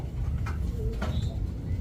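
Racer pigeons coo softly at a pigeon sale centre, a couple of brief low calls over a steady background rumble and faint chatter.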